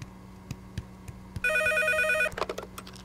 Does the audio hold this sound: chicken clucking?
no